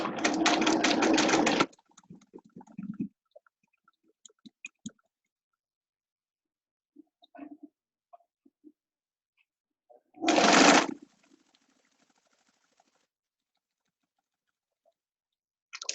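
Sewing machine stitching a dense zigzag seam of 20 stitches per inch on a fabric scrub cap, running in two loud bursts of rapid rattling with quiet gaps of faint clicks between.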